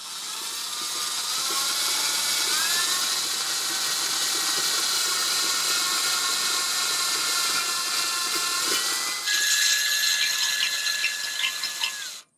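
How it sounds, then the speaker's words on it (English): A drill bit grinds steadily through a ceramic grill dome, giving a continuous high, hissing scrape with shifting whining tones that jumps in pitch near the end before cutting off, close up and with no talking. "you're just going to start to rotate that drill bit, and it will start removing some of the material"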